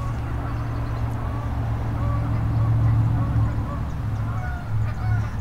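Geese honk repeatedly at a distance over a constant low rumble of background noise.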